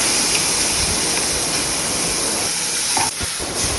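Broccoli and mushrooms sautéing in a little olive oil, a loud, steady broadband sizzle with a brief dip near the end, no voice over it.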